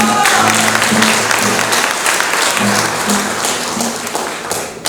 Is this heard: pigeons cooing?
no